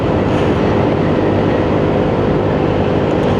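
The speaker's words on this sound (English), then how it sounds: "There's your railway line that runs from Bletchley to Euston. There goes a train." A train passes on the Bletchley to Euston railway line, a loud, steady broadband rumble and roar with no breaks, heard from nearby, mixed with wind noise from a moving motorcycle.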